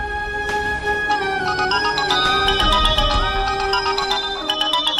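A mobile phone ringtone playing a loud, bright electronic melody of rising and falling tones that repeats steadily for several seconds, heard alone with no talking.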